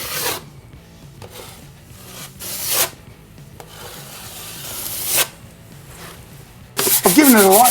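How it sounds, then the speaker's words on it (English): Sandpaper rubs over a filled drywall patch on a wall in a series of close, scratchy strokes with short pauses between them, ending in a louder rough scrape, and no talking. "I've given it a light sand, wiped it down with a damp cloth just to take the dust off"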